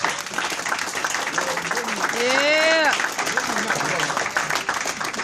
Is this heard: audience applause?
yes